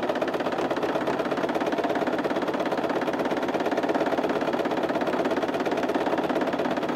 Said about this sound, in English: Back stitch and just keep on going.